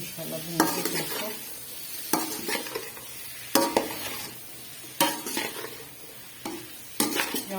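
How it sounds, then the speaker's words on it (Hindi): Tomatoes, capsicum and green chilies fry in a pan, a steady sizzle broken by regular scrapes and clinks of a spoon stirring every second or so, close and alone without talk. "ये देखिए जी यहाँ पे टमाटर और शिमला और हरी मिर्च तो थोड़ा सा भूनने"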